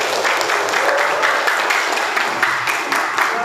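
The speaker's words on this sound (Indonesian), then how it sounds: "Oke, tepuk tangan untuk kita semua." A classroom group of teachers or students claps together in a steady burst of hand clapping that fills the room, with a few quick rhythmic peaks and a faint voice underneath.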